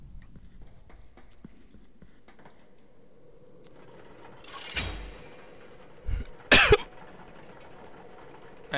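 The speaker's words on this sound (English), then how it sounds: "Coughed and hiccuped." A person coughs a few times, a short muffled cough followed by a sharper burst and a double cough, over a quiet low hum.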